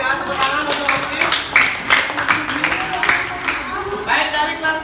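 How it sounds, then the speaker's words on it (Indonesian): Pupils in a combined-grade primary classroom clap for a classmate, scattered rhythmic claps mixed with children's voices and chatter. "tepuk tangan untuk Oki"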